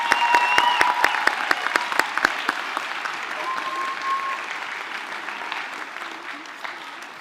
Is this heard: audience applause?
yes